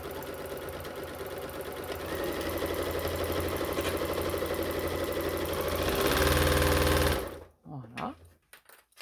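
Sewing machine stitching fabric for a running backpack, a fast continuous mechanical chatter heard close for about seven seconds, speeding up slightly before stopping, followed by brief handling noises.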